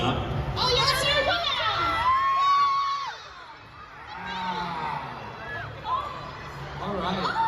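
A convention panel crowd cheers, whoops and shouts with high excited voices, a loud burst that dips briefly before swelling again in scattered screams.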